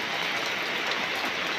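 Rain falls outside a house, a steady, even hiss of drops on surfaces that fills the whole stretch at moderate level with no voices.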